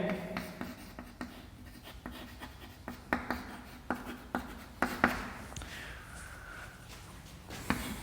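Pen or marker strokes on a board while a note on determinants is written, heard as quiet scratchy taps and scrapes in an irregular rhythm, fairly close, with no talking.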